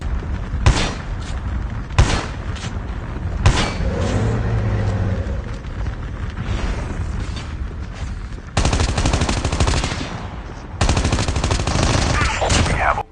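Gunfire in the Call of Duty Mobile battle game: several sharp single shots early on, then long rapid automatic bursts, loud and close over a rumbling game background.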